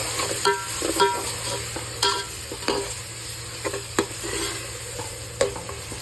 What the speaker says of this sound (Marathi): हे मस्त आपण दोन मिनटं फ्राय करून घेणार आहे